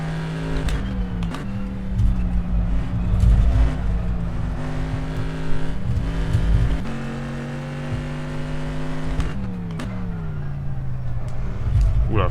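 Race car engine in rFactor 2 with the DPi mod, a steady loud droning note that shifts pitch with gear changes and throttle, continuous across the whole stretch with no talk.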